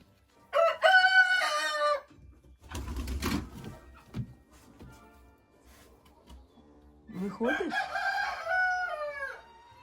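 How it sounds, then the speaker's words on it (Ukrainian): Chickens at a country dacha garden give two bursts of loud, close, harmonic calls, one near the start and another toward the end, with a quieter rustling stretch between. "І тут курочка несеться."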